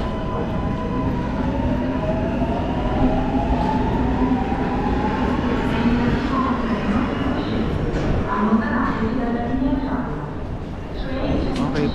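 A Milan metro train rumbles and screeches along the tracks, a continuous loud roar with squealing tones rising and falling throughout.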